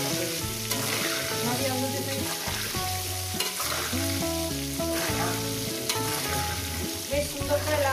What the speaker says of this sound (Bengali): আলুগুলো আমি দিয়ে সুন্দর করে লাল লাল করে ভেজে নেব।